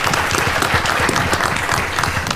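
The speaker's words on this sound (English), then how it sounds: "So give everyone a round of applause." A conference audience at a forum on ending AIDS in Black America breaks into loud, dense applause, many hands clapping steadily close by with no pause.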